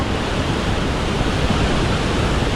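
Water rushes and splashes near Jarsheshwar Temple outside Pune, a dense, continuous roar that stays loud and even throughout, with no voices.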